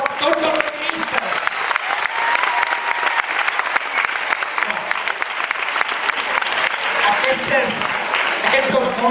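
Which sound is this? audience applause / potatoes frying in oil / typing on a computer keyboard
audience applause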